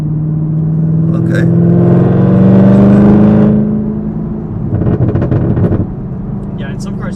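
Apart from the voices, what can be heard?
ZL1 Camaro accelerating hard with launch control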